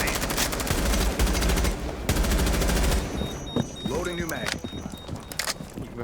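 Rapid automatic gunfire bursts loudly in Rainbow Six Siege, two sustained volleys rattling close by before stopping, followed by sharper scattered impacts with people talking over the action.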